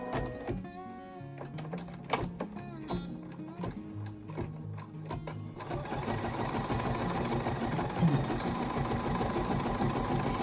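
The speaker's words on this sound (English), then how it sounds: "this is literally just going to stitch out in different colours" A Bernina embroidery machine fitted with a free arm (LFA) hoop stitches out a design, its needle hammering in a rapid, steady mechanical rhythm that turns louder and denser partway through and runs on continuously.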